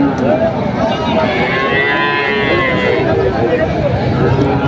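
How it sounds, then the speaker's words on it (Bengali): Deshi dairy cows low loudly at a busy cattle market in Thakurgaon, a long drawn moo close by over a dense bed of crowd chatter and market noise. "যে গরুগুলো রয়েছে কোচাবাড়ি হাটে, আমরা সেই গরুগুলো তথ্য আপনাদের দিচ্ছিলাম"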